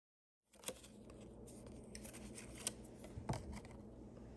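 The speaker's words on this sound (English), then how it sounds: "I'm going to shuffle and the next card will be your home life" Quiet, close rustling and soft slapping of tarot cards being shuffled, with a few sharper snaps, continuous for a few seconds.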